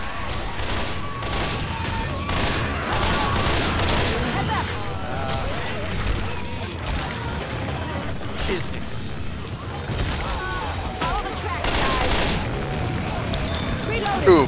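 Rapid gunfire in Left 4 Dead 2, dense bursts of shots and booms mixed with game mechanisms, with players talking over the action throughout.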